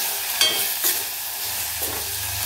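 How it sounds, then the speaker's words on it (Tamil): Thuthuvalai leaves are sautéed in a pan for rasam, making a soft, steady sizzle with a few spoon scrapes and knocks, heard close with no voices. "இந்த இலையும் வந்து நம்ம போட்டுக்கலாம். கொஞ்சம் நல்லா வதக்கிக்கலாம்"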